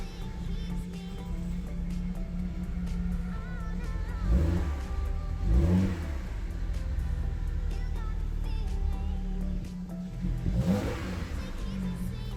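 A BMW 335i engine revs repeatedly from a rough idle, sounding poor, each throttle blip rising and falling, with three stronger revs standing out over a steady rumble.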